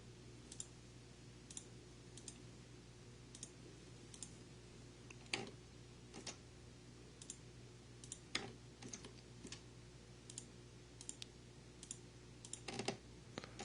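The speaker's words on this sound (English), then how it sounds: "It's like I'm just driving your Alt key down through the keyboard." Scattered computer keyboard key clicks, a few sharper presses standing out, sparse and irregular over a steady low hum, close and fairly quiet.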